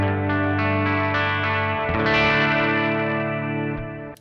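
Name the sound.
guitar through delay and reverb pedal board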